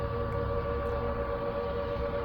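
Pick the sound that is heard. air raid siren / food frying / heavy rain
air raid siren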